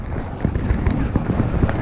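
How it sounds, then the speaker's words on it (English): Steady wind buffets the microphone in woods at Walesby during a winter bike ride, with low, gusty rumbling and uneven thumps. "It's already windy, as you can probably hear."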